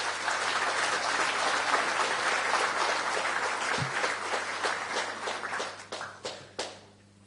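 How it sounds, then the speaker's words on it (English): A summer school audience applauds its local organising chair, a sustained round of clapping that holds steady and then thins out into a few scattered last claps before fading. "please give a huge round of applause for Michael Gallagher, Chair of the Local Organisation"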